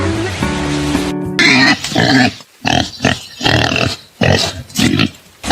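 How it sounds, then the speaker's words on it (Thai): A pig oinking and grunting in a series of about six loud, close bursts with short gaps, following a brief musical jingle at the start. "ต่อไปเสียงหมู"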